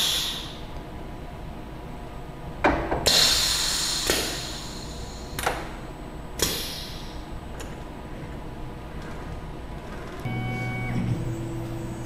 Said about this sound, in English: Once the part's loaded, then the CNC program runs.